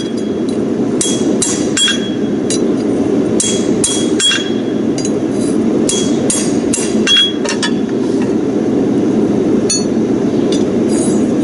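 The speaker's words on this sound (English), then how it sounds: "going to just run the bottom edge with my hammer, just the bottom edge so I don't collapse the concave" Sharp, ringing hammer blows on steel as a farrier runs the bottom edge of a horseshoe near the hardy hole of an anvil, struck in quick uneven bursts over a steady loud background hum.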